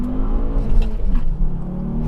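A tuned Volvo V70R Spaceball accelerating hard, its engine roaring loud and close with a rising rev and a steady throaty drone throughout, no talking.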